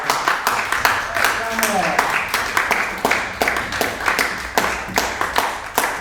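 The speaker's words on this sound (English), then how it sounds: "Give another round of applause for that." A live audience at a classical Black folk song concert claps in a steady round of applause, dense sharp claps running the whole stretch, with a voice briefly heard over it.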